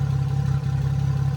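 A V6-swapped Mini ticks over at a warm idle of about 700-800 RPM, giving a steady, close, low burbling hum with a faint mechanical clatter and no voices.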